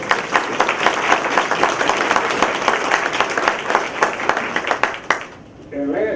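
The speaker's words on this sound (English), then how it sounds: "And I think the audience ought to give themselves an applause for that." A council meeting audience applauds, many hands clapping steadily at close range for about five seconds before the clapping cuts off and a voice begins speaking.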